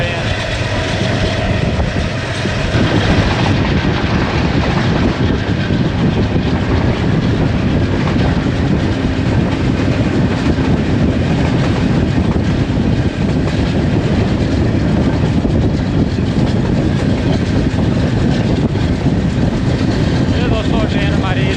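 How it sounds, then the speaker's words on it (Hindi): Karachi Express passenger train rolling through Lodhran Junction, a steady loud rumble of wheels and carriages throughout, heard from on board, with a shift in tone early on. "ये दोस्तों ट्रेन हमारी लोधरा जंक्शन से पास थ्रू कर रही है।"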